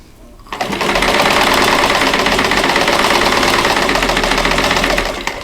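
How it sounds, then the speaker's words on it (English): A sewing machine stitches quilt block pieces together into rows for a Ladies Wreath block, starting abruptly and running as a loud, steady, close mechanical whir with rapid needle knocking for about five seconds. "I'm sewing the first two pieces of each row together"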